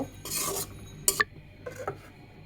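A lid lifted off a pot of potatoes simmering for a fenugreek-leaf stir-fry gives a short, close metallic clink amid faint kitchen shuffling and rubbing.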